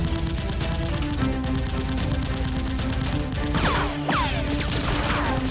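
Nerf blasters fire during a staged SWAT-versus-masked-demon battle inside a building, with rapid, continuous popping shots layered into a loud, busy action soundtrack and a few whooshing effects near the end.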